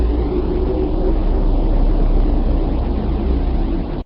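Recording of Earth's sound from space, a loud, continuous broadband rush like wind and water with a deep underlying rumble, steady throughout.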